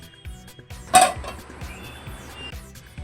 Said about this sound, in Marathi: आता आपण झाकण काढून ते चमच्याने परतून घ्यायचं आहे